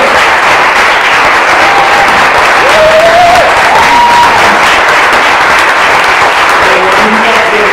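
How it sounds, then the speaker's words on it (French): Loud, sustained applause from the audience at a round-table event, dense clapping with a few voices rising briefly through it, continuing without a break. "je pense qu'il y a quelque chose qu'on vous propose d'applaudir"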